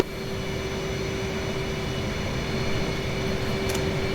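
Jet aircraft engines in DCS World hold a steady loud roar with a constant whining tone, broadband rumble sustained evenly throughout and no voices.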